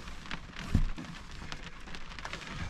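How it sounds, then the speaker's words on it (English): Rain drums on the roof of a truck being used for camping, a steady soft patter of drops with one louder thump partway through, heard close and alone at low volume. "I'm sure you guys can hear the rain on the roof."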